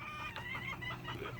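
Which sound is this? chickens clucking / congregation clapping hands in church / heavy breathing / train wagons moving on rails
chickens clucking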